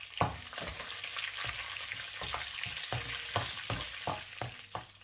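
Green chillies sizzling in hot oil with lentils in a pan while being stirred, a steady crackling fry punctuated by regular scraping strokes of a spatula, close and clear.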